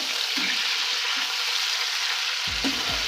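Chicken frying with garlic ginger paste in a pan for white chicken korma, a continuous close sizzling hiss with a few low knocks and stirring thumps near the end.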